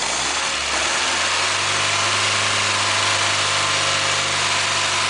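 A 1500cc MG Midget engine runs on a test, holding a loud, steady mechanical drone that rises slightly as the revs come up, with no talking over it.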